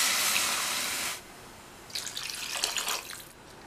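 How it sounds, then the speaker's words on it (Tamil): Two cups of water are poured into a pressure cooker over soaked parboiled rice for vegetable tomato rice, a steady close splashing stream that stops abruptly, followed by lighter trickling and dripping. "அதுக்கு 2 கப் தண்ணி சேர்த்துடலாம்."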